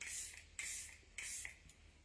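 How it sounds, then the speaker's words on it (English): Ophir makeup setting spray misted onto a face in three close, loud hissing bursts, each about half a second long with short pauses between, and no talking. "This is Ophir setting spray."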